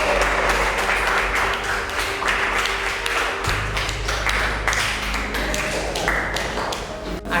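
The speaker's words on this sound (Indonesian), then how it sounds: "Tepuk tangan untuk kita semuanya" A classroom group claps together in a steady, loud burst of applause that runs for about seven seconds, dense and continuous, with faint voices mixed in.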